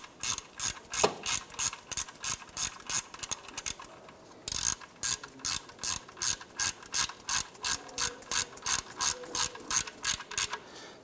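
A ratchet snugs the oil drain plug on a 2005-2007 Ford 500, giving a fast, even run of loud, close clicking strokes with one brief pause, with no talk.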